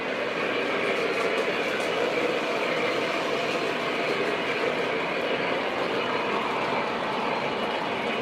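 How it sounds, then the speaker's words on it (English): Small model train cars, including a Union Pacific caboose on an ore train, roll steadily along a track with a continuous whirring rumble and faint clicking, moderately loud and unbroken, with no voices. "Got our Union Pacific caboose on the ore train."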